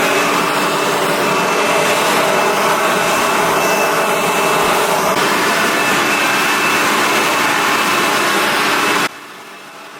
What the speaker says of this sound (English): So now I get to use our new leaf blower to clean up.